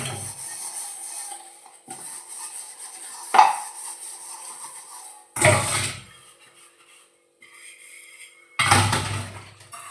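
Dishes from a single meal being washed in a home kitchen sink, with bursts of running water and clinking pots and utensils separated by quieter handling, close and fairly loud.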